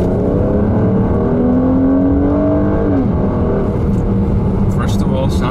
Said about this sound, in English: Let's go ahead and get a quick acceleration to see how that feels.